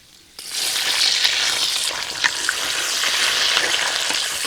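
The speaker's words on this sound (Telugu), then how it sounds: "ఈ టమాటాలు బాగా మెత్తబడే వరకు వేయించుకోవాలండి" Raw green tomatoes with fenugreek seeds, dried chillies and curry leaves hit hot oil in a pan for a fresh Telugu chutney, giving a loud, steady sizzle close by from a sudden start, with occasional stirring scrapes.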